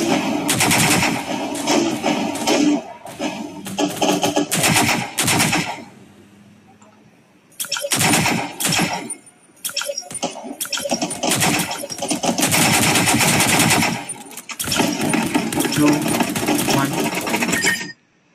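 Rapid automatic gunfire in the Cyber Hunter shooter game, long loud sustained bursts broken by short pauses, with a continuous rattling chatter close to the listener and a faint voice in one gap.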